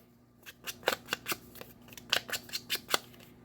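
Scissors snip the corners of paper cut from yellow floral fabric-style junk journal stock, a quick series of about a dozen crisp, close cutting clicks in an irregular rhythm with no talking.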